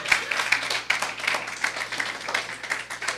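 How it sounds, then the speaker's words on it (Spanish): A church congregation claps and applauds in a dense, steady patter of many hands, moderately loud and fairly close for about three seconds. "dale un fuerte aplauso al Señor."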